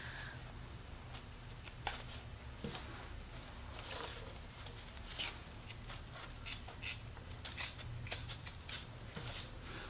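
Scissors cut along a straight line in craft material for a Dollar Tree snowman project, giving a close, faint series of crisp snips and rustles in an irregular rhythm.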